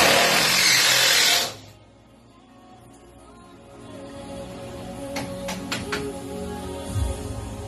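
A power drill runs loudly for about a second and a half while backing out the screws that secure a large fish tank to its aquarium stand, then stops, leaving quieter handling noise with a few short clicks.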